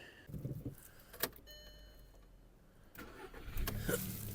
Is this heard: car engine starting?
yes